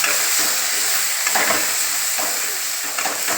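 Bitter gourd sizzles in a pan on a low gas flame while a spoon stirs it, giving a steady close hiss broken by scraping stirs.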